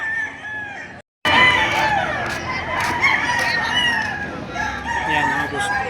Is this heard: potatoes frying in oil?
no